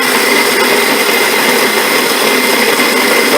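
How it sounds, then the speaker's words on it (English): A Bodum electric coffee grinder grinds coffee beans with a loud, steady, high whirring roar that holds unbroken from start to end. "That was 20 seconds worth of grinding."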